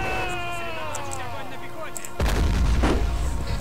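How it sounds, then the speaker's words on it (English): High-explosive tank shells fire in the World War II strategy game Men of War, with one heavy boom arriving mid-clip over a low rumble after a stretch of whistling, descending tones. "I am using high explosive shells"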